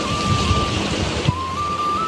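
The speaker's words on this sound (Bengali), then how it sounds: "হাওয়া হতে হতে বৃষ্টি নেমে আসলো।" Rain falling after stormy wind, a steady broad wash of rainfall with a faint tonal hum running through it and one brief thump.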